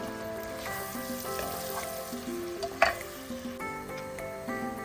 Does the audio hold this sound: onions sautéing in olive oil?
yes